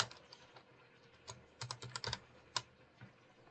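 Computer keyboard typing during graphic and web design work, a quiet run of soft key clicks with a few louder bursts of quick keystrokes, close and alone with no talk.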